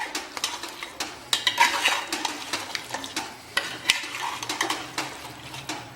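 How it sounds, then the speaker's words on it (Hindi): A spoon stirs mutton bhuna masala in a pot, making repeated scraping and clinking strokes against the metal over a soft sizzle, close and steady, with no talking. "अभी इसे अच्छे से हम मिक्स कर देंगे।"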